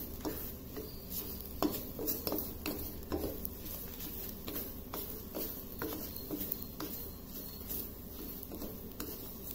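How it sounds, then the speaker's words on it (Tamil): Semolina, grated coconut and cashews dry-roasting together in a pan, faint soft scraping and light metallic taps of a spatula stirring at an uneven rhythm. "ரவை, தேங்காய், முந்திரி மூணுமே நான் வந்து ஒன்னா வறுக்கிறேன்."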